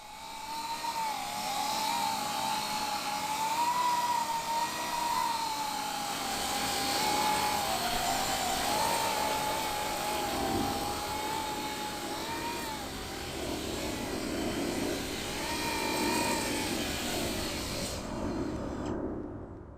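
A drone riding on a cushion of air hovers with a loud, continuous whirring drone of spinning propellers, its pitch wavering slightly up and down throughout before cutting off abruptly near the end.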